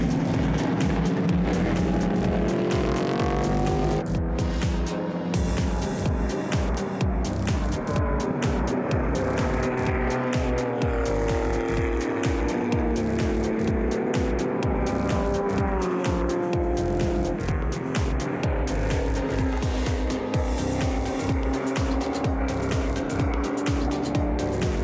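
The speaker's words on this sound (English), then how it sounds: "Only in historic racing do you get to see such a wide variety of cars racing on the same track against each other" Historic race cars roar continuously around a circuit, loud engines rising and falling as several cars pass close by with brief tire squeal, a dense wall of motor noise throughout.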